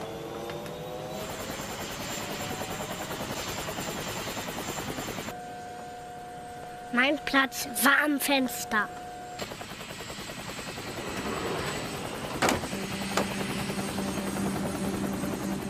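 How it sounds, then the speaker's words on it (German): A cartoon helicopter drones loudly with a steady rotor buzz that pauses briefly for a burst of musical chimes, then resumes, with a voice speaking over it. "Der Hubschrauber hat viel Krach gemacht."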